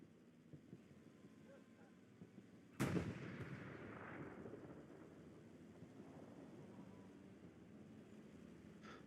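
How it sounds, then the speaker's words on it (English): A Panzer IV tank gun in the video game Hell Let Loose fires at a Sherman: one sharp, loud blast rings out and then trails off into a long rumbling tail over faint wind-like background noise. "P4 is sending rounds at the secondary Sherman just to keep him at bay."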